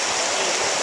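Walker's Falls on Mill River roars in a loud, steady rush of falling water, a broad continuous wash with no pauses and no voices over it.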